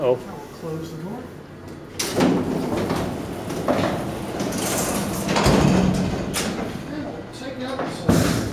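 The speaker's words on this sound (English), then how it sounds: "Close the door." A Downey-Goodlein freight elevator door in a campus building slides shut with rumbling and metallic clunks, people talking nearby throughout.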